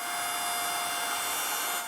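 A vacuum cleaner drones steadily at close range while sucking loose static grass off a model railway layout, a loud continuous whirring hiss with a faint whine and no talk.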